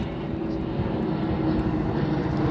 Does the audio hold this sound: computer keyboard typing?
no